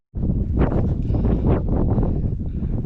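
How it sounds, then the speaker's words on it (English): Strong wind buffets the microphone on a rocky mountain pass near Picklejar Lakes, a loud, unbroken low roar with gusty swells and no voices. "It's just really windy."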